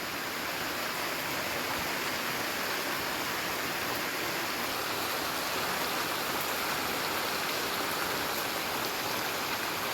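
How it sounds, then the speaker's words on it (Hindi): Steady rain falls at the start of a downpour, a dense, even hiss of drops that stays constant throughout with no voices over it. "उसी टाइम बारिश भी शुरू हो चुका था।"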